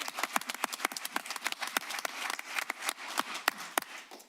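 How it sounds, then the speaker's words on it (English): Applause from the audience at a Board of Education meeting, a round of scattered hand claps that continues steadily for several seconds in a room. "please join me in a round of applause, acknowledging our two board members"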